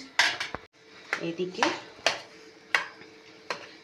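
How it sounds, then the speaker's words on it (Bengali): A ladle scraping and clanking against a pot while hot potatoes are stirred, several distinct metallic knocks at irregular intervals over low background noise, with someone talking. "গরম তো, তার জন্য আমি একটু হাতা দিয়ে নেড়ে নিচ্ছি।"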